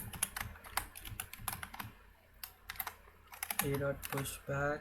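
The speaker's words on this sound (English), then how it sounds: "sorry for the keyboard noise" Rapid clicking of computer keyboard keys in irregular bursts, close to the mic, with a person speaking briefly near the end.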